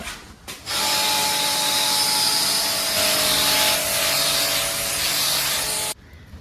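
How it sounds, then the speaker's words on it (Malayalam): Cleaning foam sprays steadily over a greenhouse grill. The hiss is loud and continuous for about five seconds, then cuts off abruptly. "പിന്നെ ഈ ഫുള്ളൊന്ന് ഫോം അടിച്ചേക്കാവേ."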